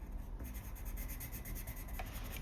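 A watercolor pencil rubs steadily across paper, coloring an area of grass with a soft continuous scratchy scribbling at close range, alone and fairly quiet.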